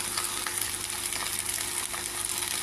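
Moringa leaves fry in a pan with salt added, giving a dense, steady sizzle broken by soft scraping as they are stirred, close and continuous with no voices.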